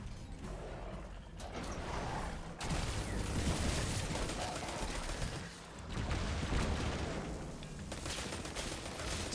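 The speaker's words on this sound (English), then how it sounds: "Be careful of the missiles that this guy fires" Gunfire and missile blasts in Destiny 2, loud continuous rattling volleys and booming bursts that surge and briefly drop away before resuming.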